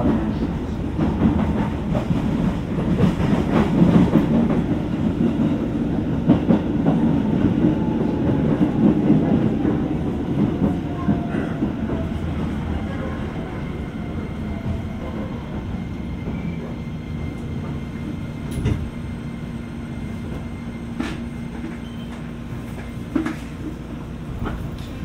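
A Keisei 3000 series train runs as a rapid limited express from Shibayama-Chiyoda toward Keisei Ueno, heard binaurally from inside: a steady rolling rumble with rail clicks and occasional sharp knocks, no voices.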